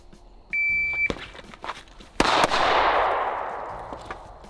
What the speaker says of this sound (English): Notice the muzzle blast, that was nice and close.